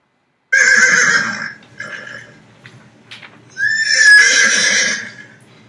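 A horse neighs loudly and close, a shrill whinny that breaks off, then a shorter snort and a second long, wavering whinny, with no voices.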